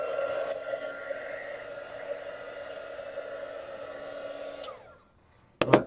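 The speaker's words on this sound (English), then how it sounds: "maybe it's a better choice to use a hairdryer" A hair dryer blows with a steady whirring hum for about five seconds, then winds down and cuts off; a brief clatter follows.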